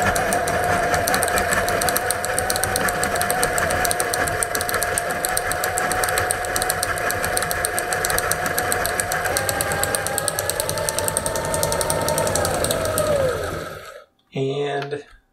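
A cone winder prototype for yarn runs at maximum speed, giving a loud, close, rapid mechanical clatter and whir that holds steady, rises slightly in pitch, then winds down and stops near the end.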